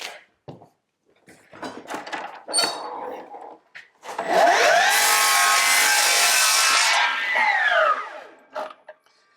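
A Milwaukee M18 Fuel 305mm cordless mitre saw cuts through a wide wooden offcut in a single pass: a loud, steady whining rip of about three seconds, with clunks and handling sounds of the saw before and after.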